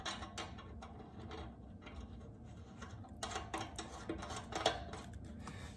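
Ratchet wrench with a 17 mm socket tightening a spindle bolt on a John Deere mower's steering, giving faint quick clicking bursts over quiet workshop background.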